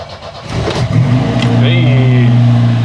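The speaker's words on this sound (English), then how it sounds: "I'll probably have to crank it for a little bit for fuel to get up there." An Opel CIH engine with a freshly refreshed cylinder head cranks and then catches, its low steady roar rising to a sustained run after about a second, loud and close with no talk over it.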